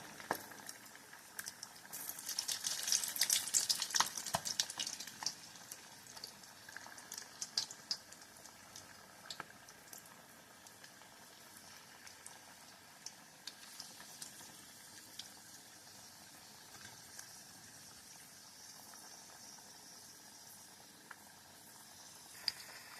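Minced-meat curry vada frying in oil over medium heat: a soft, continuous bubbling sizzle, louder briefly near the start with a few crackles, then settling into a quiet, even hiss.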